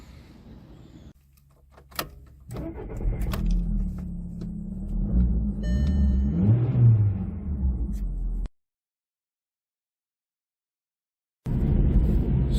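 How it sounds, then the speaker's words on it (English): A 2007 Volkswagen Golf Mark V with the 1.6 FSI engine: a door thud and small clicks, then a steady low engine and cabin rumble that cuts to silence and returns briefly at the end. "let's go for a drive"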